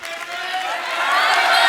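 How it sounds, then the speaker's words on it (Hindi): Studio audience at The Kapil Sharma Show breaking into loud applause and cheering, a dense crowd roar that builds and swells toward the end, with voices mixed in. "जोरदार तालियां हो जाए"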